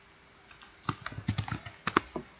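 Someone types a command on a computer keyboard. Roughly a dozen crisp, close key clicks come in an uneven, quick rhythm with no talking.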